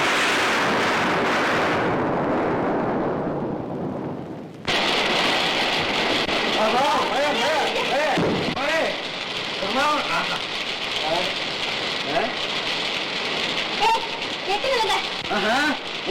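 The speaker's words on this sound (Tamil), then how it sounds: "ஐயோ இடியா அடிக்குதே அது இடி அடிக்கல உன் பேச்சு எதிரொலி தலை வலி மழையே வந்துடும் போல இருக்கே" Steady rain pours down in a film scene, a dense hiss that breaks off abruptly and resumes in a rougher burst partway through, with voices talking over the downpour.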